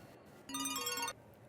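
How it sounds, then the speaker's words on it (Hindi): A mobile phone rings with an incoming call, a short bright electronic ringtone melody lasting about half a second, fairly quiet and heard alone without speech. "ये मुझे क्यों फोन कर रहा है?"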